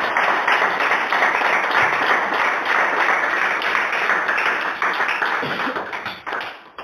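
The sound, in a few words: audience applauding for the sister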